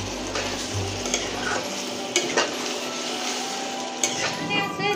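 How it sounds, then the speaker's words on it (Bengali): Spices and chili powder sizzling in hot oil in a pan for a Bengali egg and chicken curry, stirred with a spoon that scrapes and taps the pan at intervals under a steady loud fry. "এবার নেড়ে নেব"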